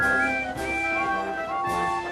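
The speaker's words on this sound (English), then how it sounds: "All three engines blew their whistles" Three steam engines blowing their whistles together at a circus, overlapping sustained tonal whistles in layered pitches, fairly loud and close, with brief puffs of steam bursting between them.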